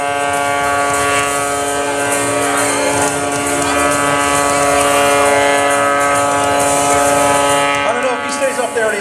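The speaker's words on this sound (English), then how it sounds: "Hanging off that whirlwind propeller using all 370 horsepower from that Skydynamics" An aerobatic airplane hovers at zero airspeed at an airshow, its 370-horsepower Skydynamics engine and Whirlwind propeller giving a loud, steady, harsh drone that holds without a break.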